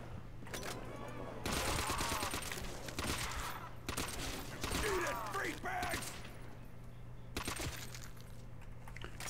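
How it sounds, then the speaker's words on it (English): Rapid gunfire from shooting zombies in World at War custom zombies on a subway map, bursts of shots coming in clusters over steady game background hum, with a voice talking in places. "I'm just gonna shoot everyone."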